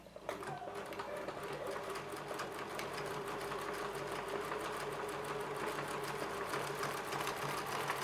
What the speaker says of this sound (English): I will then cut this out level with the scallop and start stitching